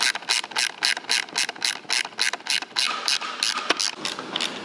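A ratchet wrench tightens the nuts on the drive chains of a Lightning Kayaks Freedom Drive, giving a steady run of quick, close, crisp clicks in short bursts with brief pauses.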